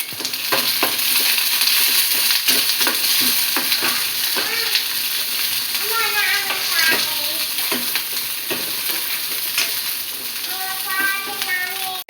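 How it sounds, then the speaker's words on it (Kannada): Chopped onion and green chili go into hot oil with mustard seeds for a tempering, crackling and sizzling steadily up close with scraping stirs throughout, while a voice is heard faintly in the background. "ಅಲ್ಲಿಗೆ ಈರುಳ್ಳಿ ಮತ್ತು ಮೆಣಸಿನ್ಕಾಯಿ ಕಟ್ ಮಾಡ್ಕೊಂಡಿದ್ದಲ್ಲ, ಅದು ಒಗ್ಗರಣೆಗೆ ಹಾಕ್ತೀನಿ."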